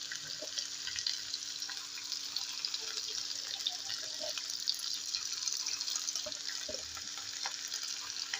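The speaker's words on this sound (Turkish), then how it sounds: "Havuçlarımız da güzel kavrulduktan sonra soslarımızı bırakıyorum." Steady sizzling as sauce is added to carrots sautéed in a hot pan, with faint liquid sounds and occasional light clinks; no voices.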